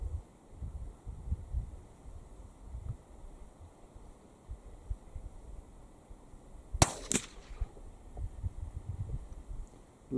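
A single sharp, loud gunshot cracks out at once and then decays, fired from an Anschutz 1710 XLR rifle fitted with an EC tuner on an outdoor long-range match course, against steady wind-like background noise.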